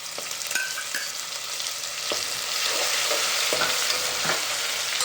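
Ginger garlic paste and whole spices frying in hot oil for a soybean veg biryani, a steady broadband sizzle that grows slightly louder, with a few soft stirring clicks and taps, close and alone with no talk.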